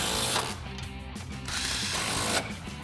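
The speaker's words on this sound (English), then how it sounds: "switch to our 15mm socket and tighten our 2 longer studs down" A ratchet wrench with a 15mm socket tightens the longer studs of a BMR tubular strut tower brace on a 2015-2025 Mustang GT, giving close, repeated clicking bursts with brief pauses between strokes.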